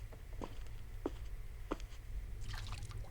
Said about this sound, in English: I was suddenly distracted by the sound of dripping water nearby